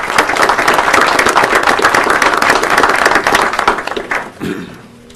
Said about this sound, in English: Let's give them all a round of applause one more time, please